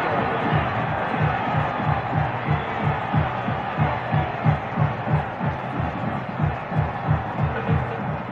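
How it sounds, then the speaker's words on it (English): Stadium crowd at the 1954 Grey Cup football game roaring after a touchdown, a broad sustained roar with rhythmic pulsing chanting or stomping beneath it, heard from a distance on an old broadcast recording. "Doesn't that crowd roar?"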